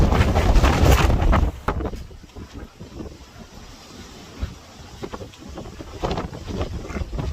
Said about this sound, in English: It's fucking windy as hell, yo.